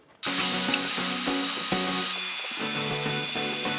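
A power sander whirs loudly and continuously on a resin piece cast from 3D printer waste, its pitch wavering as pressure shifts, with a brief dip in tone partway through.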